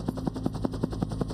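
A Huey command and control helicopter flies about 1,500 feet above a battlefield, its rotor thumping in a fast, even rhythm of loud beats over a steady engine drone, with no voices.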